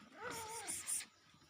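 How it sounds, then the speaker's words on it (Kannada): A pet cat indoors lets out a single short, faint meow that rises and then falls, followed by quiet. "ನೋಡ್ರಿ ನಮ್ಮ ಕ್ಯಾಟ್"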